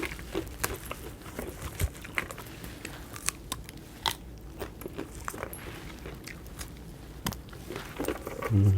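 Crisp, crunchy bites into a lotus seed pod, followed by close chewing with sharp crackles and snaps at an irregular rhythm and no talking.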